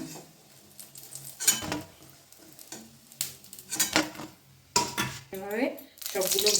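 Bitter gourd leaf pakoras frying in a pan, with a soft sizzle beneath clinks and scrapes of a utensil against the pan and several louder metallic knocks.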